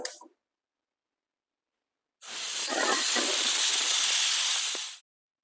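Pressure cooker on the stove releasing steam while cooking black urad dal rice: a short hiss at the start, then a loud, steady hissing steam burst lasting about three seconds, heard alone.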